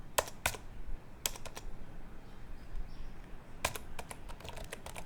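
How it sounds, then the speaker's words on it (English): Computer keyboard typing a command on a Windows 11 PC, heard as several short bursts of close, crisp key clicks separated by quiet pauses over a low steady background hiss, with no voices. "And then we need to type the next command"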